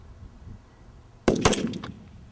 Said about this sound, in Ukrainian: Тут стріляють з автоматів Калашникова.